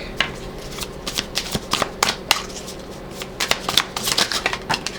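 A deck of tarot cards being shuffled by hand, close and crisp, with rapid riffling bursts and soft flicks repeating irregularly across the clip.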